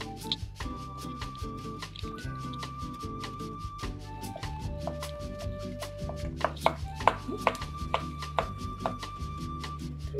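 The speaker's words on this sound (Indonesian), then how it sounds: "Kali ini saya pakai cheddar, potong-potong kecil-kecil ya." Knife chopping a block of cheddar cheese into small pieces on a cutting board, rapid steady taps close up over a quiet background hum, with no talking.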